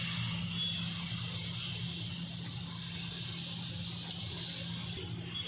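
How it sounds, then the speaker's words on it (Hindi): Jaggery and water boil into syrup over a high flame for puran poli, a steady, dense hiss and bubbling that stays loud and even throughout with no talk. "तो देखिए ये कितनी स्पीड से इसकी चाशनी बन रही है, अच्छी सी पिघल रहा है ये फटफट।"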